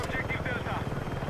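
Helicopter rotor thrum in the video game Battlefield 6, a steady close drone filling the clip under excited talk from players.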